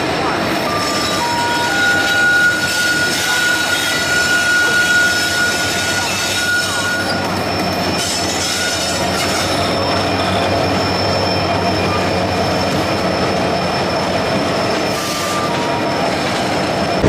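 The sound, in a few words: WDG 4G diesel locomotive train running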